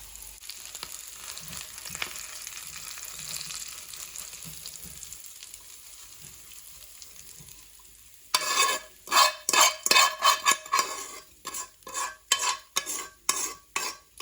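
Crispy golden plant-based chicken pieces being moved from a frying pan to a plate: a quiet sizzle at first, then loud rhythmic scraping and clattering of a utensil against the pan in repeated strokes.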